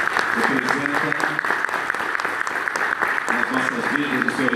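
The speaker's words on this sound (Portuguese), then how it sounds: "uma salva de palmas ao pastor por tudo que representa" A church event audience breaks into loud, steady applause for a pastor, a continuous dense wall of clapping with voices and cheers mixed in throughout.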